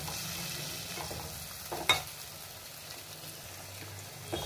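Egg curry frying quietly in a pan, a low, continuous sizzle with occasional soft scrapes and one brief clatter as it is stirred.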